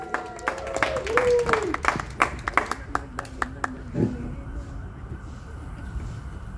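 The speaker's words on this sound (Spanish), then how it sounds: "Y el aplauso, familia, bien bonito para ustedes" A family at a mariachi birthday celebration claps in a short, loose burst of applause, with a voice talking over the sharp hand claps.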